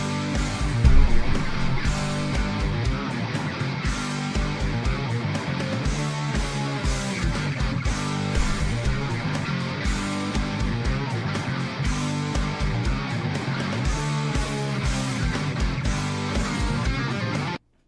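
A song from an old high school album, rendered as dense, continuous music with a steady driving beat and busy layered tones, loud and full throughout with no talking.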